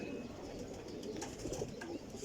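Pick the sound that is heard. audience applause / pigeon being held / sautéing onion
pigeon being held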